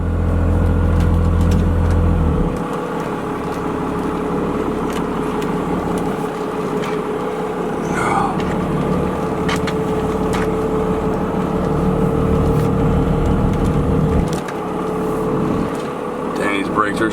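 Second generation Cummins diesel pickup truck pulling into a driveway, a low rumbling engine drone heard from inside the cab, steady and close with a brief dip, while people talk over it.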